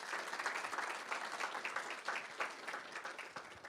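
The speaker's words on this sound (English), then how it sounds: "Applause for them." Faint audience applause for a team at a hackathon final event, a soft, steady patter of many hands heard from a distance.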